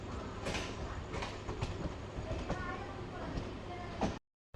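A MEMU passenger train rolls along the rails between Rajahmundry and Bhimavaram, a steady rumble with faint rhythmic clicks heard from inside, continuous until it cuts off abruptly.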